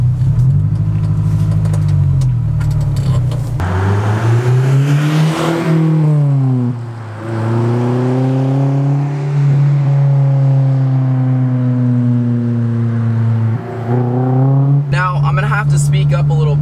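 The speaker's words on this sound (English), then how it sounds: "as you guys can hear, there is a catback exhaust system on the car" A Honda S2000 AP2 fitted with an aftermarket catback exhaust drives along back roads, its loud engine droning steadily and rising and falling in pitch as it revs through the gears, close and continuous, with speech now and then over it.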